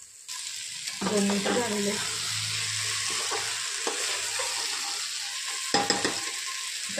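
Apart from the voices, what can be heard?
sautéing ingredients for khichdi in a pan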